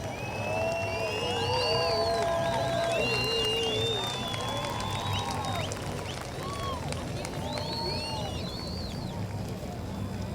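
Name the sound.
crowd at the All Souls Procession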